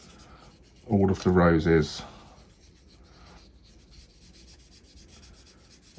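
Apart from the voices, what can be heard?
brush-tip marker colouring roses on patterned paper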